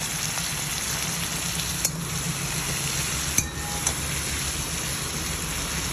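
Prawns sizzling in oil in a pan, a steady dense frying hiss throughout with a few sharp clinks and scrapes of stirring, close and alone without talk.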